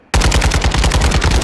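Rapid automatic gunfire in Warzone 2.0 bursts in loud and close, a fast rhythmic stream of shots after a brief quiet start.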